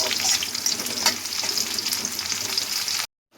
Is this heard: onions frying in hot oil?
yes